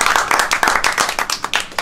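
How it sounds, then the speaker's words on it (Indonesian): Audience members clap during a quiz session at an event in Bogor, a brisk burst of many hands with uneven, overlapping claps, loud and close. "Tepuk tangan, benar."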